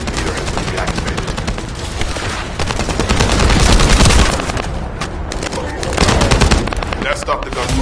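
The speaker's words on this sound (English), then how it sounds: "That stopped the gunfire." Sustained bursts of rapid gunfire rattle loudly throughout, with heavier booming swells, sounding like an intense firefight in the video game The First Descendant.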